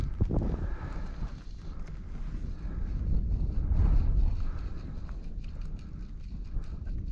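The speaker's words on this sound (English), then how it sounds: "It's actually a really nice wind we've got." Wind on a lake while fly fishing from a float tube, a steady low rumble and buffeting against the microphone with faint splashes, and no talking.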